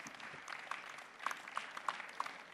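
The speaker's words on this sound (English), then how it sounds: "let's please give a big round of applause for our speakers this evening" Audience applause for the speakers at the Chefs World Summit 2018, a faint, steady patter of clapping that swells slightly in the middle, with a few louder claps standing out near the end.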